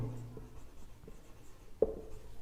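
Faint scratching strokes of writing on a board or paper, quiet and intermittent with one sharper tap, in a classroom lesson setting without talk.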